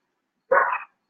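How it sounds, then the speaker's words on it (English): A single short, sharp bark from a small dog, close and clear against silence. "you probably can hear them barking in the background"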